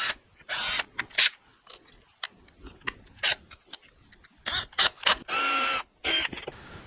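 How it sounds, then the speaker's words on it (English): A drill press bores small pilot holes into the back of a homemade wooden drawer pull, in short bursts of whirring separated by pauses and quieter mechanical clicks. "So now I need to drill some pilot holes on the back of the drawer pull here"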